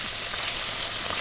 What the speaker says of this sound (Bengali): এবার আমি মাছগুলোকে ভেজে নেব।